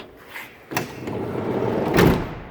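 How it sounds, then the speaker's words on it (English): The sliding side door of a 2009 Dodge Caravan SE wheelchair van rolls shut, a close scraping glide that builds over two seconds and ends in a soft thud. "Slide the door shut, and you're ready to roll."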